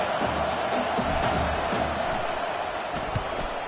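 A simulated stadium crowd in an American football video game produces a steady, dense roar that stays fairly even throughout, with faint rhythmic thumps underneath and no clear voices.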